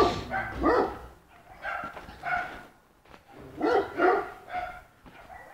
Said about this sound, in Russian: Везде собаки.